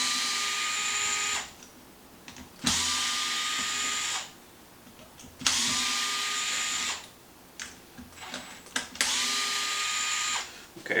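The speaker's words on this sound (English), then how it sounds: "Now we're going to remove those 4 screws right there." A power driver whirs in three bursts of about a second and a half each, pausing between them, while backing screws out of a Traxxas Maxx RC car's front A-arm assembly, fairly close and clear.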